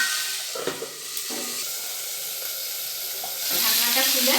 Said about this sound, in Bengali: একটু ভাজা ভাজা হোক।